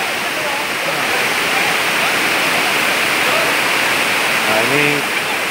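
Resun waterfall at Daik Lingga pours in a steady, loud broadband roar that fills the whole clip, with a brief voice rising over the rushing water near the end.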